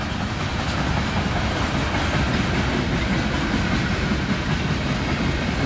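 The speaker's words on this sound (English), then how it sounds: "Nice CNW green covered hopper. Eastbound mixed freight, Mechanicsville, Iowa." An eastbound mixed freight train with a green CNW covered hopper rolls past at Mechanicsville, Iowa, a loud continuous rumble and rattle of railcars close by with no talk.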